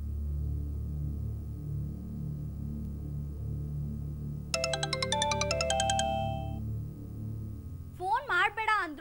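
A mobile phone rings with an incoming call during a Kannada TV serial scene: a bright, rapidly pulsing electronic ringtone plays for about a second and a half over a low room hum, then a person begins talking.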